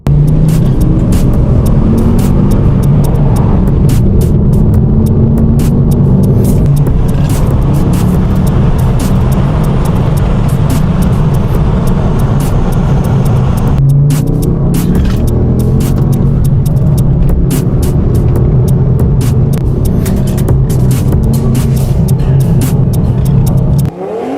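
Ford Focus ST fitted with an Xforce catback exhaust driving on back roads, loud continuous engine and exhaust drone from inside the cabin, rising and falling with throttle, no talking.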